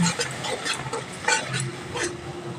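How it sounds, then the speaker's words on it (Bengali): Spice masala cooking down in a pan with a little water for a Bengali fish curry, stirred with a utensil that scrapes and clinks against the metal in an uneven rhythm under a soft sizzle. "এখানে একটু অল্প পরিমাণ জল দিয়ে মশলাটা আমি কষিয়ে নেব"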